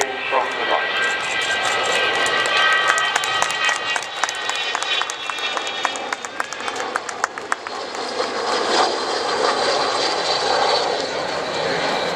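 An Avro Vulcan bomber approaches at an air display with a rising, whooshing jet engine roar, fairly loud and continuous, with a voice commenting over it.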